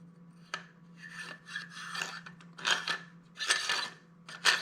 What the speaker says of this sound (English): Screwing it on just like this.